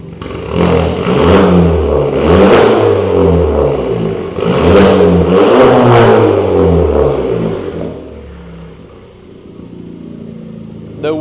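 A straight-piped Skoda Fabia with a 1.2 TSI engine revving hard, two long loud raspy rev cycles close by, then settling to a rough idle.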